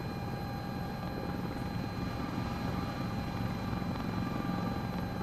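Helicopter rotor and turbine drone from a flight simulator game, a steady, dense whine with constant rotor hum running throughout, loud and unbroken with no talking.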